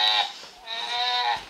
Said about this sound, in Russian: Это же коза.